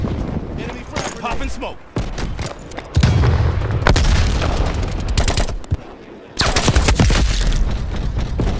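A frag grenade blast in a Call of Duty Black Ops Cold War multiplayer hardpoint match booms loudly amid dense, close rapid gunfire and further explosions, while in-game voices call out over the din.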